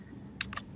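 A date being typed on a computer keyboard: two quick, quiet bursts of clicking keystrokes close together over a low steady room hum.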